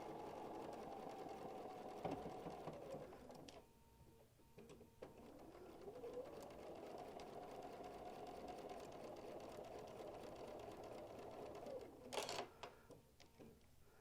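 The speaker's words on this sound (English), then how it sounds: "And so now I'm going to sew it 1/4 of an inch." A home sewing machine stitches a quarter-inch seam on quilt piecing, a steady mid-pitched whir running for several seconds, pausing briefly, then resuming before stopping with a sharp click.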